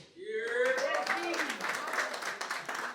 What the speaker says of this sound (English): that applause is super whack